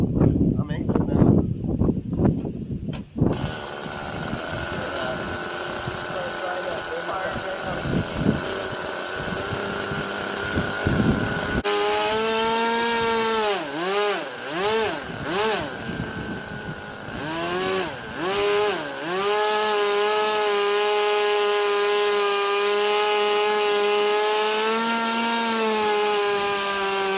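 A nitro RC buggy engine with its carb needing tuning runs at a high buzzing idle, starting rough and choppy, then settling into a continuous whine that wavers up and down as the throttle is blipped, loud and close.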